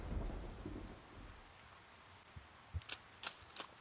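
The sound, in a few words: rain in video game Persona 4 Golden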